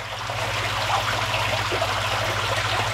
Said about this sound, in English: it's on a permanent drip feed going through there